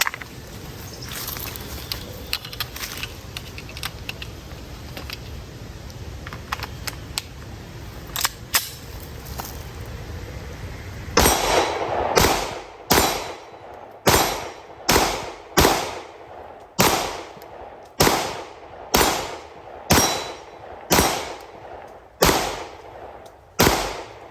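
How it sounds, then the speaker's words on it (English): A CZ P-07 pistol fires a full magazine at a steel plate, about a dozen loud sharp shots in a steady, evenly spaced rhythm after a stretch of quieter handling noise, with no talking. "So I'll run another magazine through it, but the first one went well, so let's burn another one up."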